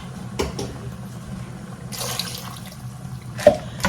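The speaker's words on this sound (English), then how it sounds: "I'm also going to fill the can up with water and add maybe 2 cans" Water from a can pours in short splashing bursts into a Cosori 5.7-litre pressure cooker holding beef stew, a few quiet gushes separated by brief pauses, with no talking.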